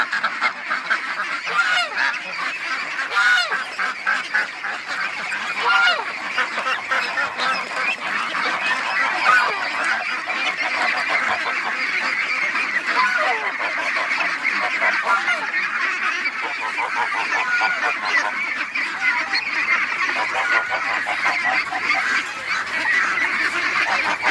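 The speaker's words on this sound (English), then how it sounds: "But let's let the ducks out" A flock of ducks quacking and honking continuously, a noisy overlapping chorus close by, with occasional faint voices mixed in.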